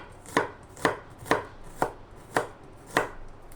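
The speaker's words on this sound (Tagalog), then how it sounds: "I-slice na natin ng bawang." A knife slices garlic on a cutting board for a beef and onion stir-fry: seven sharp, evenly spaced chops about half a second apart, close and crisp, with no voices.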